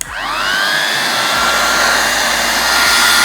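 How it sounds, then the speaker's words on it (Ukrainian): A Profinstrument LS-1600W hot air welding gun for PVC membranes and plastic switches on: a loud, steady blower roar rises within a moment and then holds constant, alone with no talk. "можемо почути, що робота у даного фену не є такою і дуже голосною"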